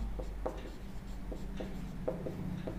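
Pen or chalk writing out a maths equation, a string of short scratchy strokes and taps in an irregular rhythm, close and fairly quiet with no talking.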